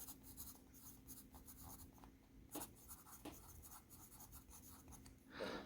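An Apsara Absolute graphite pencil shades across paper in a steady, close scratching rub, with short pauses and a few sharper strokes and no talking.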